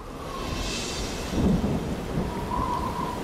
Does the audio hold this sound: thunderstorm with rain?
yes